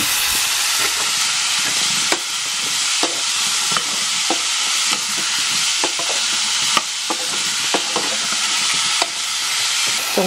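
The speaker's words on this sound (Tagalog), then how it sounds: "Next, nagisa naman natin yung ating sayote." Chayote sautéing in a pan gives a steady, close sizzle with continuous frying hiss, punctuated by scattered stirring clinks and scrapes of a utensil throughout, no talking.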